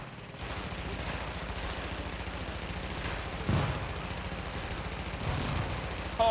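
Shotgun fire in The Division comes as fast, regular bursts of gunfire over several seconds, with a few sharper, louder blasts standing out from the rhythm.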